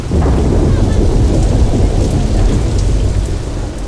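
Thunderstorm with heavy rain in north-eastern Nigeria's Borno region, a loud, steady wash of downpour with deep rumbling thunder filling the whole stretch, no voices.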